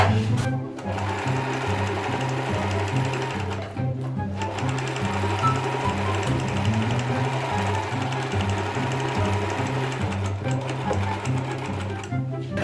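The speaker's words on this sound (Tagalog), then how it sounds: "Yung edging machine, trim nyo lang." A serger edging machine stitches a 17 by 17 inch throw pillow cover, its needles chattering in a fast, steady mechanical rhythm that pauses briefly a couple of times, close and loud with no talk.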